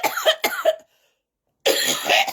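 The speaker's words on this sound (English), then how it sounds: "let me clear my throat." Someone clears their throat with a few rough, close bursts, then a short silence before another loud throaty rasp.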